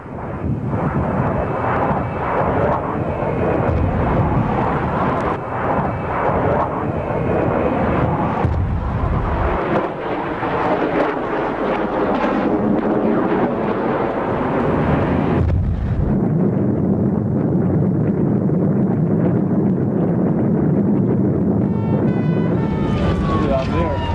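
Two Russian military jets at a 1993 air show in England roar loudly overhead in a mid-air collision, a sustained engine rumble with a burst of explosive noise, while people talk over it.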